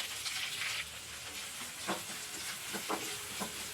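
Sliced onions with cumin and curry leaves fry in oil with a faint, even sizzle, joined by a brief louder hiss at the start and a few soft stirring scrapes later on.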